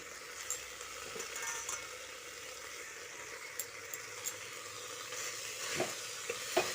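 Cabbage and peas frying in a pan with potatoes, a soft continuous sizzle under scattered scrapes and taps of a spatula stirring close by.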